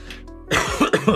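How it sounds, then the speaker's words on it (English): A couple of quick, close coughs in succession, rough and throaty, preceded by a brief quiet moment. "I coughed."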